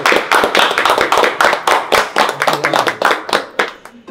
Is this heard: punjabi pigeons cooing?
no